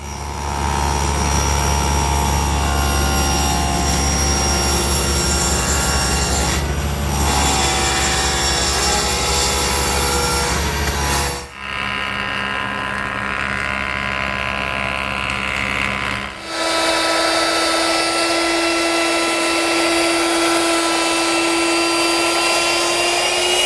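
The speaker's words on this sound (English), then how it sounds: "I'll do that at the table saw." A table saw trims a wooden frame piece for a full-length mirror, a loud continuous machine roar and whine that runs the whole time and shifts in pitch and tone partway through, with no talk.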